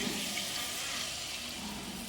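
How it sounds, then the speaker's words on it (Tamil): Tamarind water poured into a fish curry simmering in a clay pot, a steady faint liquid pour and splash running evenly throughout with no speech. "இப்போ புளி தண்ணி நம்ம அதில் ஊற்றிக்கலாம்"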